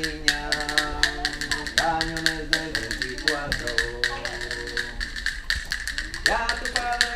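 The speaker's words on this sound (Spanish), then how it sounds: "Yo tengo castañuelas." Traditional castanets played during a school music week give sharp, rapid clicks in steady rhythmic bursts under a group of voices singing a folk tune.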